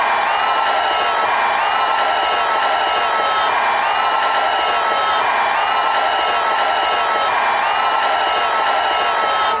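A large crowd cheers, shouts and applauds loudly and without a break, a dense wash of voices and clapping that holds steady from start to finish.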